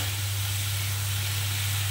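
Whisked sour yogurt sautés in a hot pan, giving a steady, close sizzling hiss over a low constant hum, with no voices.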